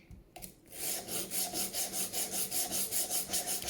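A knife blade is drawn over a Work Sharp rolling sharpener in a quick, even run of about a dozen rasping strokes, close and fairly quiet, each stroke a short scrape with no voices.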